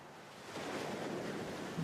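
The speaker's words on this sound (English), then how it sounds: "Look at the huge ocean." Soft, steady ocean surf washes in with a broad hiss and low rumble, swelling slightly partway through; no voices, fairly faint and distant.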